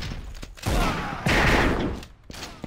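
Gunfire in the video game Assault Cube: loud bursts of shots and blasts crowd the short stretch, coming in dense, overlapping waves with brief gaps between them.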